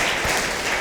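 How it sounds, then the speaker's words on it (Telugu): A seated group of women and girls at a celebration claps together in a steady, dense wash of applause that runs for a short burst with no talking over it. "వెరీ గుడ్ అండి, చప్పట్లు కొట్టండి."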